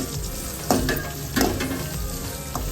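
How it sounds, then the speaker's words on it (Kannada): Chopped onions sizzle steadily in a hot pan for a fenugreek leaf curry, with a few sharp spatula scrapes and stirs punctuating the close, continuous frying. "ಈರುಳ್ಳಿ ಸ್ವಲ್ಪ ಫ್ರೈ ಆಗಲಿ"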